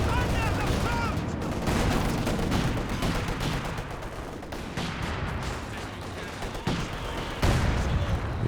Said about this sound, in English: Mortar strikes out the back.